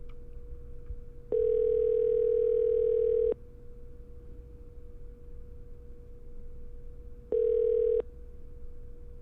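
Outgoing telephone call ringing: a steady low tone runs throughout, broken by two louder ring bursts, the first about two seconds long and the second shorter, with no talking.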